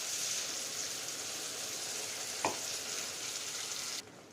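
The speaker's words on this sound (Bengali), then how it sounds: "এরপরে এর মধ্যে দিয়ে দেবো বেটে রাখা টমেটো পিউরিটা" Tomato puree frying in a pan for a tomato pabda fish dish, a steady soft sizzle heard close, with one brief stir sound midway before the frying drops quieter near the end.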